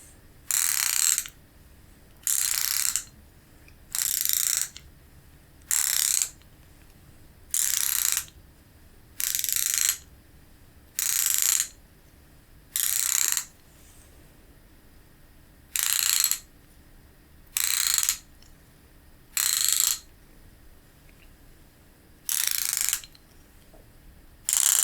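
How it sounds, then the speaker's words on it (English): A socket wrench ratchet tightens a panel in a quiet room, giving about fourteen evenly spaced bursts of crisp clicking, each roughly a second long, with short pauses between them and no talking. "So I'm just going to switch the direction of my socket wrench."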